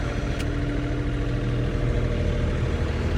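A small garden tractor engine idles steadily nearby, a continuous low, even drone with no change in pace and no voices.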